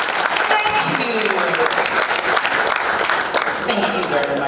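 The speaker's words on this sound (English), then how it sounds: "A round of applause for him, please." Audience applauding a chairman at a live-streamed energy industry event, a dense, steady wash of clapping from a large crowd throughout, with a few voices mixed in beneath it.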